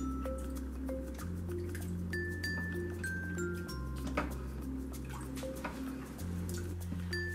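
Culture being stirred into a pot of milk for cheddar cheese curds: soft wet swishing and light clinks of a spoon against the pot, steady and close over a sustained low tonal hum.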